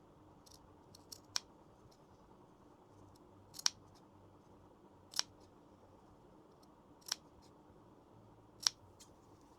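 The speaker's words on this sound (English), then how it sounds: "cut roughly in the centre, about there and about there" Sewing scissors snipping through fabric, five sharp separate cuts spaced a second or two apart against quiet room tone, close and clear with no talk.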